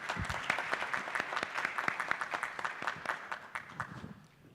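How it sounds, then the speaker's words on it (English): A panel audience at a digital transformation and blockchain discussion claps for Ammar, a brisk round of many hands that runs about four seconds before tapering off. "We should give Ammar a round of applause."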